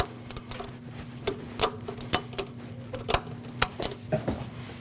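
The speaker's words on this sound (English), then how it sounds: "you can take a ratchet strap, hook it up here, hook it up to your radiator support, give it a pull" A ratchet strap hooked to the radiator support of a 2014-2023 Jeep Cherokee is pulled tight under the hood, giving a run of quick, close mechanical clicks and rattles in an uneven rhythm over a low steady hum.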